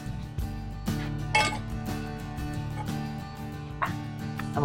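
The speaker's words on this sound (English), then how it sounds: "I'm going to give it just a little stir." Spoon stirring a pot of chicken perloo, with light metallic clinks and scrapes against the pot over a steady low hum, close up, no voices.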